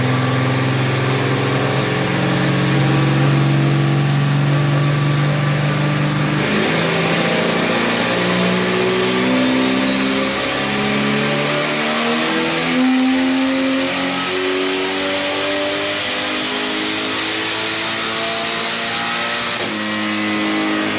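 A turbocharged Pontiac Sunbird engine roars steadily on a dyno, running on wastegate, its loud revving pitch climbing in stages with a constant high turbo whine over the top.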